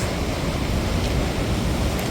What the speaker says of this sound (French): regardez-moi la taille des vagues qui arrivent là